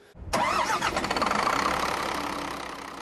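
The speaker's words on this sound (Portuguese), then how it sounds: "Olha o barulho que a gente estava falando do caminhão. É aquele barulho ensurdecedor." A large truck engine cranks and roars to life, then settles into a loud, deafening, steady idle with a heavy rumble, close by.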